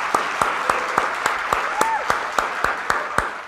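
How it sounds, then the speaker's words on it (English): Applause rolls on beneath a regular series of sharp, evenly spaced percussive hits, roughly three per second, with a brief voice sliding through in the middle. "Applause, applause."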